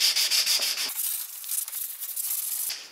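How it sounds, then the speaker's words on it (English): Hand sanding of freshly table-sawn wooden cladding board edges with 240 grit sandpaper, a close, steady rasping rub in repeated strokes, alone without talk. "I'm going to take some 240 grit sandpaper and I'm just going to smooth off the edges"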